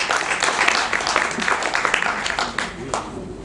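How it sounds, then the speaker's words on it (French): A live studio audience breaks into sustained applause, a dense patter of many hands clapping at steady loudness for a few seconds before easing slightly at the end. "Vous pouvez applaudir."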